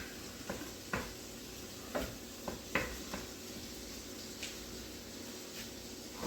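Meat browns in a pan on medium-high heat for steakhouse burger sloppy joes, giving a soft, continuous sizzle punctuated by a few sharp scrapes and taps of a utensil.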